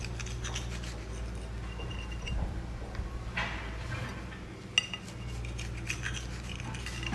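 Cutlery scraping and cutting through food on a plate, slicing it into four pieces, with repeated close knife rubs and clinks over a steady low background hum.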